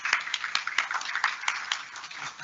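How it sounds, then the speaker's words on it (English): A small audience at a NASA educator outreach event in the US Virgin Islands gives a brief, moderately close round of clapping, with dense overlapping claps at an even loudness for a couple of seconds. "Why don't you give her a round of applause?"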